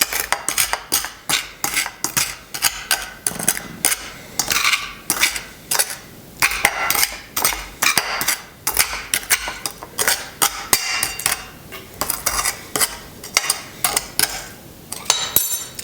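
A spoon repeatedly smashing graham wafer crumbs on a plate gives a steady run of sharp, close clinks and taps of metal on ceramic, fairly loud with no talking.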